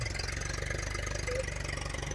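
A tractor engine runs steadily in a farm field after rain, with an even, rhythmic low chugging that stays close and constant throughout.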